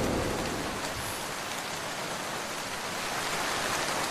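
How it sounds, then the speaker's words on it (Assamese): Steady rain pours down, a dense continuous hiss without breaks, moderately loud and even throughout. "বৰষুণ যাকো এতিয়াহে আহিবলৈ পালে"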